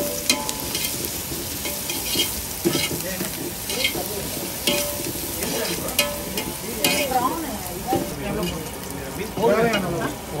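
Green chilies sizzle steadily in a hot pan as a South Indian crab masala is cooked, with stirring scrapes throughout and faint voices in the background.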